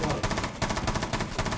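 Rapid automatic gunfire in a Rainbow Six Siege match rattles continuously at close range, loud and dense with only a brief break partway through.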